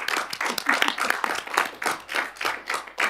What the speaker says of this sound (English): maybe just a quick round of applause from everyone here